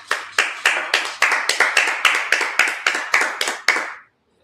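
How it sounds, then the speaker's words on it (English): A Sabbath service group claps in unison, about fifteen loud, close, evenly spaced claps in a steady beat that stop abruptly. "All right, let's clap it up."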